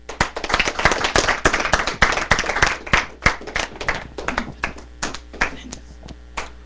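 An audience in a school setting applauds a guest introduced at a coral poetry event, with loud dense clapping that gradually thins into scattered individual claps, close and with no talk.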